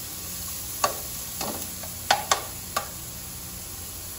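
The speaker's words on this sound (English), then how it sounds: "And the shallot and the garlic. And I'm going to let this saute for like about 2 minutes." Shallot and garlic sautéing in a pan for a fish stew, a faint low sizzle with a few sharp utensil taps and scrapes scattered through it.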